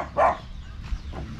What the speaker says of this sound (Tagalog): mukhang nakakatakot dahil ayan, may mga aso